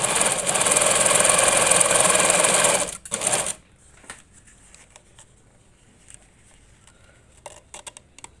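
Singer Facilita Ultra sewing machine running a straight-stitch test: a loud, fast, close whir for about three seconds, then stops, leaving faint handling clicks and near silence.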